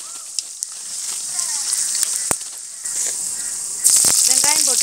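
Mustard seeds splutter in hot oil while tempering for a fish curry. Sharp crackles and pops sit over a sizzling hiss and swell louder toward the end, with a voice briefly heard.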